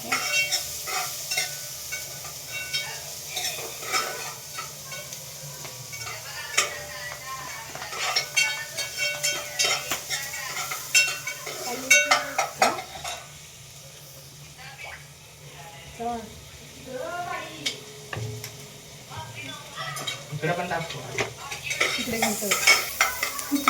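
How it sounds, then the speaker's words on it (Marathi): Onion and garlic frying in a pan for a home-cooked pasta, a steady sizzle with scraping stirs running throughout while people talk over it. "कांदा आणि लसूण फ्राय करतो"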